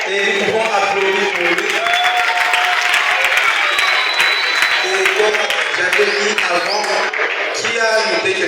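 A classroom of students applauds one of their classmates, a dense, steady wash of clapping that holds for the whole stretch with murmuring voices woven through it.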